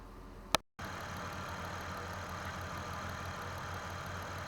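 A 2009 Chrysler Town and Country engine idles steadily after a transmission fluid and filter change, a constant mid-low running hum following a brief click and a moment of silence at the start.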